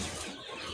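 Tiger chicken chicks in a brooding shed holding about 300 birds give a brief, soft burst of clucking and chirping, faint and close.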